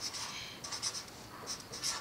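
Marker or pen scratching out a number line by hand, soft repeated strokes close by, faint and light with quiet room tone behind.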